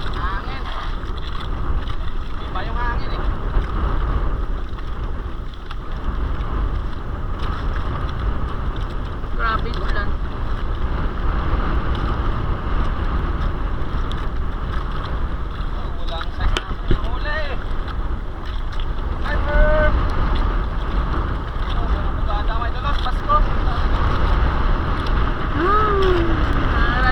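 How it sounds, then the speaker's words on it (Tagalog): Wind buffets a fishing boat at sea during the southwest monsoon, a constant roar against the microphone with water and engine rumble beneath and people talking over it. "Iba yung hangin eh."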